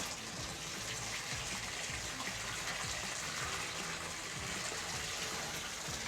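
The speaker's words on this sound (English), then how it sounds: "when I turn my water back on" A Delta T17T shower faucet runs steadily for the whole stretch, a continuous, fairly loud rush of water with nobody talking.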